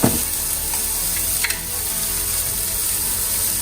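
Cabbage and egg sautéing in a pan for a Tamil cabbage egg poriyal, with a steady close broadband sizzle throughout and a couple of brief stirring clinks near the start and middle.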